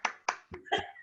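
Hand clapping, four sharp claps in about a second, fairly close and moderately loud, the last one followed by a brief bit of voice.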